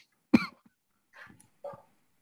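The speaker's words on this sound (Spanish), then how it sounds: "Me dio tos" A single sharp, close cough bursts out in an otherwise quiet room, followed by a couple of softer throat-clearing coughs after a pause.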